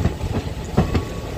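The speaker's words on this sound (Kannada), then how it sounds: "ಈಗ ನಾವು ಹೊಸಪೇಟೆ ಜಂಕ್ಷನ್ ರೈಲ್ವೆ ಸ್ಟೇಷನ್ನ ಎಂಟ್ರ್ ಆಗ್ತಾ ಇದ್ದೀವಿ." A delayed train on a special inaugural run pulls into Hospete Junction railway station, with a rumbling rolling roar and faint rhythmic wheel clacks, heard up close from on board and without talk.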